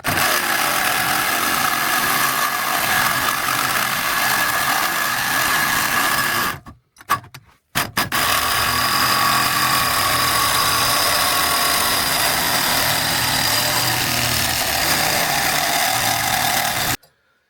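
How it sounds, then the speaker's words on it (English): Milwaukee power hacksaw cutting through a metal piece with a loud, steady buzzing drone, stopping briefly midway before resuming for a long continuous cut, then cutting off. "I'm going to use my Milwaukee hacksaw. Makes light work"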